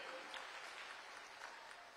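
Many hands clapping for graduates at a Nairobi Aviation College graduation ceremony, a dense, even wash of applause that stays moderately quiet and distant throughout.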